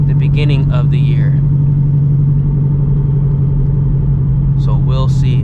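A 950 hp Shelby GT350 engine runs loud and steady with a deep constant rumble, and voices speak briefly over it at the start and again near the end.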